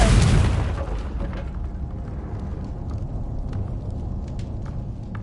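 A Confringo spell explosion in the Hogwarts Legacy video game: a loud, close blast at the start that fades into a lingering rumble with scattered small crackles.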